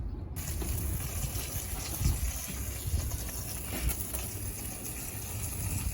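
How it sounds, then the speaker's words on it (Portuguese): Water gushes steadily over a large caudex plant being lifted and washed, a continuous rushing, splashing flow like falling rain, close and fairly loud with no voices. "começou a chuva"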